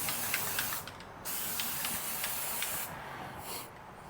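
Short hissing bursts of an aerosol spray onto a Ford FE engine block, several quick blasts in a row with brief pauses, close up and fairly loud.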